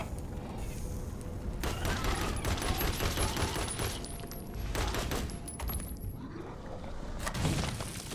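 An enemy blows apart in a Resident Evil-style zombie horror game, a dense crackling burst of impacts and debris that stays loud across the clip before trailing off.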